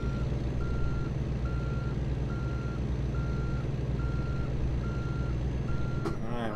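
Truck reversing beeps sound in American Truck Simulator, a steady evenly spaced beep pulsing over a low idling diesel rumble throughout, with a brief squeal at the end.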